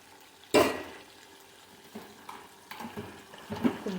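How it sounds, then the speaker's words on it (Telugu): A spoon scrapes and clanks in a pan as a ground onion, green chili and masala paste with sesame seeds is stirred into chicken, with one sharp knock followed by softer intermittent scraping and light sizzling. "నువ్వులు వేసి ఆ పేస్ట్ వేద్దాం. వేసి ఒకసారి కలిపేసేసి"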